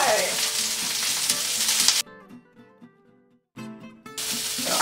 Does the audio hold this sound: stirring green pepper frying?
yes